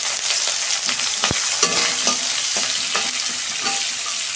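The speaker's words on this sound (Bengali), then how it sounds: "পেঁয়াজটা আমি লাল লাল করে ভেজে নিয়েছি" Sliced onions with cumin seeds and chopped green chillies fry in a pan, making a loud, dense continuous sizzle up close, with occasional soft stirring clicks and no speech.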